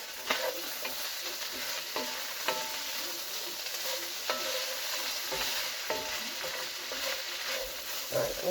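A spoon stirs a simmering stew of leftover ribs, smoked bacon and carrots in a pot, giving repeated scraping strokes over a constant soft sizzle, close and unhurried.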